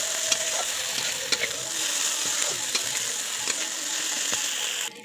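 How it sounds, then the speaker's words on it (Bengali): Onions and green chillies frying in a pan while being stirred, a steady bright sizzle with repeated scraping clicks from the spoon, close and continuous. "কাঁচা লঙ্কা দিয়ে ভালো করে নেড়ে নেব।"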